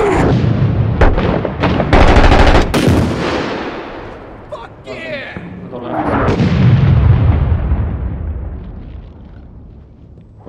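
Heavy artillery booms and gunfire crack through a military video game battle, with loud blasts in the first seconds, then a long rumbling explosion that fades away, and a voice speaking briefly in between.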